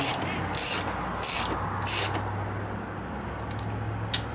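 Bolts clamping an intake manifold onto the cylinder head of a 2-valve 4.6 V8 are tightened with a ratchet, giving three loud bursts of clicking followed by fainter, quicker ticks, close up and with no talking.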